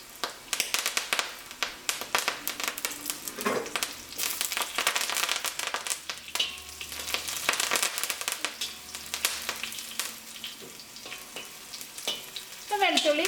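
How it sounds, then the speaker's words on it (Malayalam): Curry leaves and crushed garlic frying over medium flame in coconut oil with mustard seeds, an intense crackling sizzle with rapid pops and spatters, stirring clinks throughout, close and lively with no speech. "ഇതിലേക്ക് കറിവേപ്പില ചേർക്കുക."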